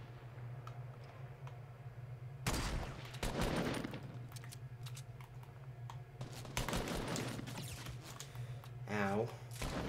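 A Fortnite battle royale firefight behind the player: bursts of gunfire come and go at moderate distance, mixed with keyboard clicks and a steady background hum.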